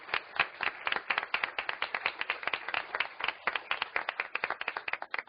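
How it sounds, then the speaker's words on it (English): At a school board meeting, an audience gives a steady round of applause, dense overlapping claps with a slightly uneven rhythm, moderately loud and continuing throughout. "could we not give them a round of applause?"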